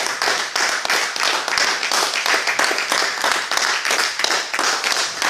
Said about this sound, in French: Acclame pour ton Dieu, acclame.